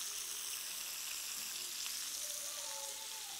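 Cheese-stuffed meatballs sizzle steadily in a hot frying pan as they are flipped, a dense continuous crackle with a few faint clinks, no talking.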